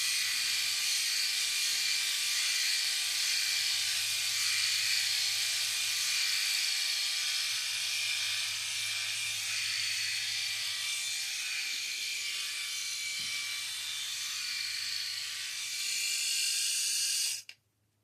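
A Freebird Flex electric razor shaving, giving a steady close-up buzzing hiss with a low motor hum that runs without a break for about seventeen seconds, then cuts off abruptly at the end.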